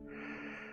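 A person clears their nose with one brief, close, breathy snort.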